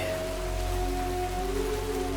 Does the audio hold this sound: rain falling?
yes